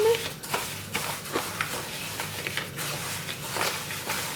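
Medium semolina drizzled with oil and stirred by hand or spoon in a bowl, giving soft repeated rustling, scraping strokes up close at a gentle rhythm, without speech.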